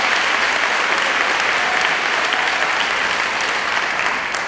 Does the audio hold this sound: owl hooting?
no